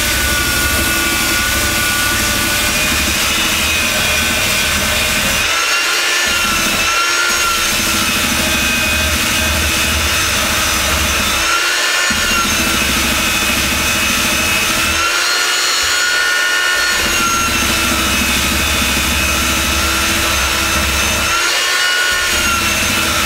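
A small belt sander with a fine 170 grit belt whines loudly and steadily while sanding a large carved wooden sign. It runs close up for a long stretch with a few brief dips where the belt leaves the wood.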